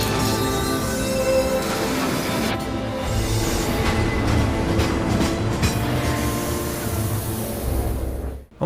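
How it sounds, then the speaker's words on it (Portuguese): A train rumbles steadily and loudly with faint rhythmic rail clatter in the opening scene of the video game Final Fantasy 7 Remake, the noise running unbroken before cutting off abruptly. "Vamos começar pela cena inicial clássica do Cloud descendo do trem, né?"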